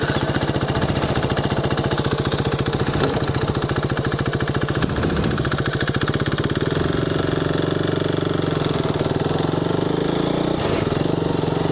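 A motorcycle engine running close by, a loud steady pulsing rumble that holds throughout with no talking.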